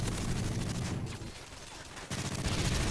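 Hipfire gunshots in a first-person shooter video game: a quick string of rapid shots, a short quiet gap, then another burst of fire, fairly close and clear.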